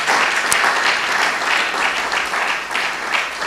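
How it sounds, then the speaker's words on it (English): An audience at an induction ceremony claps steadily, dense sustained applause filling the room from start to finish with no voices on top. "Another round of applause."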